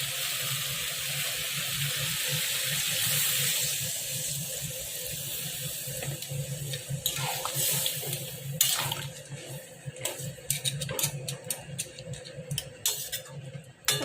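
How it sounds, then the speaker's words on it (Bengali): Water poured into a cooking pan of fried spices for a curry of banana stem, jackfruit seeds, potato and hilsa fish head. A rushing splash comes first, then bubbling and scattered crackles settle as it simmers close by. "এবার আমি জল দিয়ে দেবো।"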